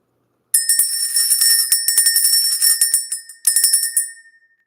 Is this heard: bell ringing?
yes